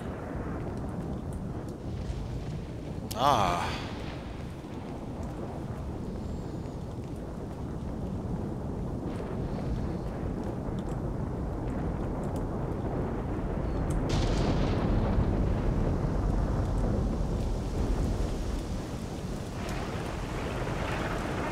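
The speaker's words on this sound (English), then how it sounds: "Just as the thunder starts." Thunder in the game S.T.A.L.K.E.R. Shadow of Chernobyl with the Oblivion Lost mod, a sharp crack followed later by a long, deep rumble that swells under a steady ambient wash. A man gives a brief exclamation.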